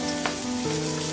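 Freshly cut potatoes fry in a pan for a spinach dish, a short burst of constant close sizzling with a faint clink partway through.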